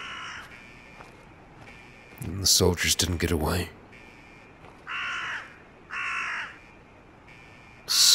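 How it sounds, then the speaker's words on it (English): Crows cawing in the video game Fallout 4, several harsh bursts spaced a second or so apart, fairly near, with a voice speaking over a noisy stretch in the middle. "That was one of the birds."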